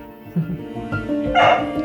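A small dog in a hotel room lets out a few short barks and yips, close and fairly loud, with some whimpering in between and a brief sharper yelp near the end.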